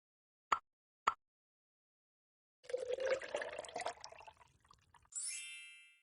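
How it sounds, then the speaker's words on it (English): Vinegar poured into a glass holding soda during a home science experiment, running as a steady fizzing, splashing pour for a few seconds after two sharp glass clinks, with a brighter hiss at the end. "Now pour some vinegar into it."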